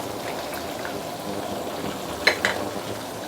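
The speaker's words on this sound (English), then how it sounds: "You can use medium high heat to deep fry for probably about 1 minute to 2 minutes." Vegetables deep fry in hot oil over medium-high heat, giving a steady soft crackling sizzle with a couple of sharper pops near the end.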